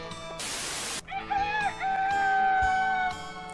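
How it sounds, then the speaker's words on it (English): A chicken in the Harvest Moon 64 video game crows in a synthesized, rooster-like call with wavering tones. A short burst of noise comes first, and the crow plays alone, clear and up front. "since we have chickens, they'll start calling every morning, even though that's supposed to be roosters"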